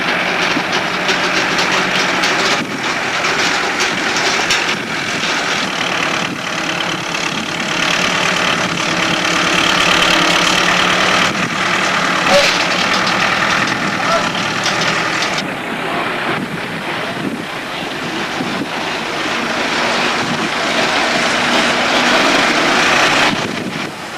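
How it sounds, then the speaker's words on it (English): A tractor engine drones steadily as it pushes the Enid Mary, an Atlantic 24-foot Class 75 inflatable lifeboat, up a coastal slipway; a loud, continuous rumble with gusty wind buffeting throughout and no talk. "the lifeboat requires the assistance of a tractor to ascend the slipway"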